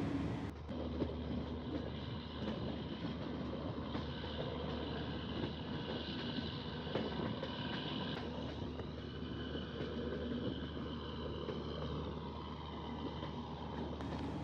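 Train climbing slowly through the curves of the Daotuhaja loop on the Haflong hill section in Assam, a steady low rumble of engine and rolling wheels heard from inside, continuous and moderately loud with no speech.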